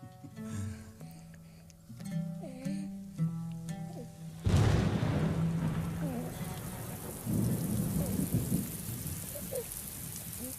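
Heavy rain pours down with rumbling thunder in a storm, a dense wash of falling water that surges in after a stretch of speech and musical tones, then continues steadily.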